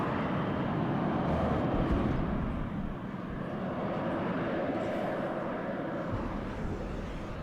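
Harrier jump jets flying over the battlefield in the WARNO strategy game produce a steady, loud engine roar that holds throughout, easing slightly midway.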